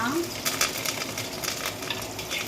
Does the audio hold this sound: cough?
no